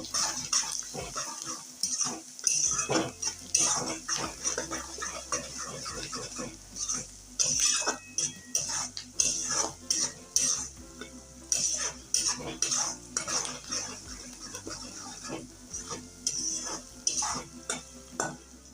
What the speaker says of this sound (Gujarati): હવે હળદર અને મીઠું આપણે સરસ રીતના મિક્સ કરી લઈશું